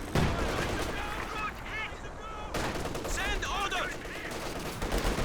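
Machine gun fire in a Company of Heroes 2 match, loud rattling bursts mixed with the clamour of battle, under a commentator's talk.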